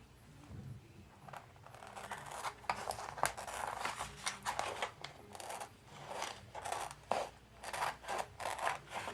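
Scissors cut out a piece of a Faith Hope Love car decal, giving quiet, repeated snipping and scraping strokes in an irregular rhythm. The snips are close but faint, with no talking.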